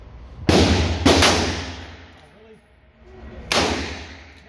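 Loud gunshots at an outdoor shooting range, apparently lead-bullet rounds: two close sharp reports about half a second apart, then a third after a pause, each with a long rolling echo and faint talk between.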